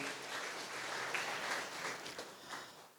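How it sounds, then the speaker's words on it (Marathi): An audience at a book launch event in a hall applauding, a steady wash of many hands clapping at moderate distance, fairly faint and lasting throughout. "त्यासाठी आपण पुन्हा एकदा त्यांच्यासाठी टाळ्या वाजवूया."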